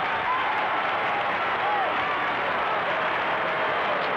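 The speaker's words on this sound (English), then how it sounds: "The cheer they're making is for Harry Sullivan, who has just come off the ground" A vast crowd of around 80,000 at a 1958 VFL preliminary final between North Melbourne and Collingwood cheers as a player leaves the ground. The roar stays broad and steady, distant and unbroken, with no clear talk over it.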